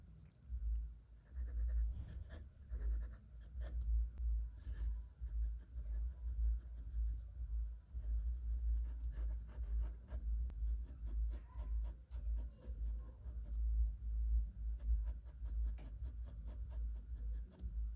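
HB graphite pencil shading on paper while drawing a face, a steady close scratchy rubbing with continuous rhythmic strokes throughout, no voices.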